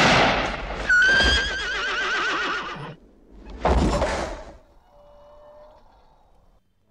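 A horse whinnies loudly and close, a long wavering neigh followed after a short pause by a second shorter whinny, then a faint trailing tone fades out.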